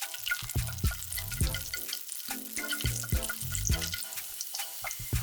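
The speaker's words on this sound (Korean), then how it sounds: "녹은 버터에 마늘을 넣고 볶아줍니다." Garlic fries in melted butter with a soft, busy sizzle close by, broken by rhythmic clinks and scrapes of a utensil stirring in the pan, quiet overall with no voices.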